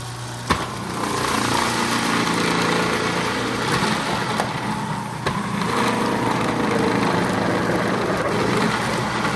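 A steady, loud motorized whir from an electric kitchen appliance shredding white cheddar cheese, running continuously at close range with faint clicks and a slight change in pitch partway through.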